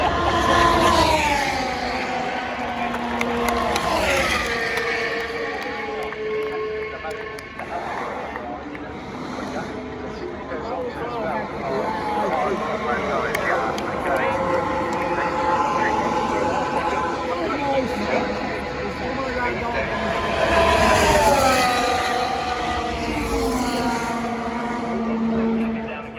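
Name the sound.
Formula 1 cars racing past on Hamilton Straight, British GP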